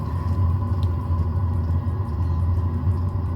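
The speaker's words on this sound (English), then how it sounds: "Here's the exhaust firing up." Exhaust of a cheap diesel heater firing up, a steady low rumbling drone with a faint whine above it, heard close and alone without talk.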